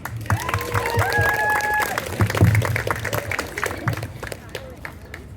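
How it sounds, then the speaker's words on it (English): A crowd at an outdoor Earth Day climate strike rally claps and cheers in a sustained burst of applause, with scattered voices and background chatter mixed in. "Let's give a welcoming round of applause to Keshav."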